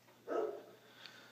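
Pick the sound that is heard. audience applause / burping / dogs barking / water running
dogs barking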